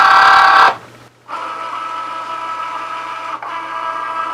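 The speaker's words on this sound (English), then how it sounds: "It says machine ready to auto load. So I'm going to stick this under here." A Cricut Joy cutting machine auto-loads its mat with a loud, steady motorized whir that cuts out briefly and then resumes at a lower, even hum, close by and with no voices.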